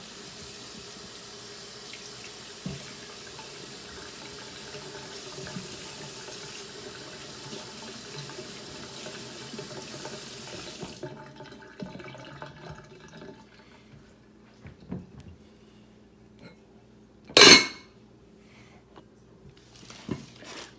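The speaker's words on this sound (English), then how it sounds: "you're just going to rinse those in cool water" New potatoes rinsed under a running kitchen tap in cool water, a steady stream splashing into the sink for about ten seconds before easing into softer dribbles, with a sharp clatter near the end.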